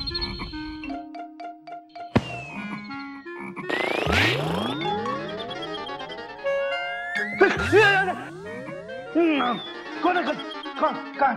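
A comedy TV episode plays frog croaks mixed with swooping, whistling cartoon effects, coming as bursts of bright chirpy tones separated by short pauses.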